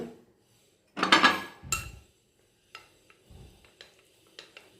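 Milk being stirred into a gram flour halwa mixture in a pan, with a burst of scraping and splashing followed by a few lighter clinks and stirs, close and with no talk.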